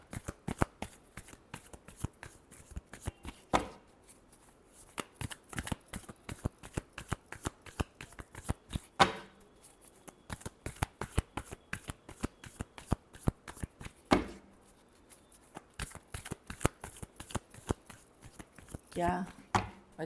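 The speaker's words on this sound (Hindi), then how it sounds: "last shuffle" Tarot cards are shuffled rapidly and continuously throughout, with a dense stream of crisp riffling slaps and flutters close by, occasional louder snaps standing out, and no clear talk over them.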